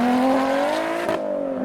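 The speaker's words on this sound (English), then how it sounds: "Gently does it in the Lotus Exige." A Lotus Exige sports car pulls away outside a car show, engine note climbing smoothly through the revs before a gear change, then fading as it leaves.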